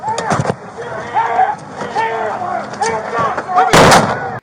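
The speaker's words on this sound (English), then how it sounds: "the first explosion you hear, that's actually a distract that SWAT used" A SWAT distraction explosion and gunfire: a sharp, loud blast near the end, preceded by a few short pops, with shouting voices throughout.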